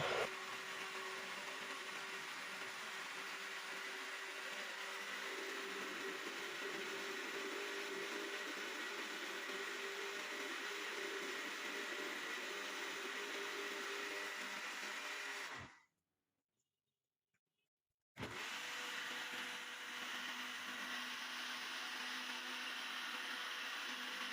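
A blender whirs loudly and steadily, cuts out for a couple of seconds of silence, then starts up again and keeps running.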